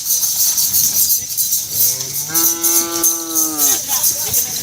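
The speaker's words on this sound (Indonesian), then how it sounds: "Ini sapi kecil" A single drawn-out moo from a small cow with rising then steady pitch, close by over steady outdoor background noise and faint chatter, at a Madura bull race ground.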